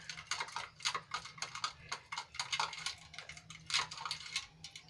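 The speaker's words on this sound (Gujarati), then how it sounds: "જરૂર મુજબનું પાણી એડ કર્યા બાદ આપણે એને સરસ રીતે હલાવી લઈશું" A spoon stirs rose sherbet in a glass, clinking against the sides in a fast, steady series of close, bright taps with no voices.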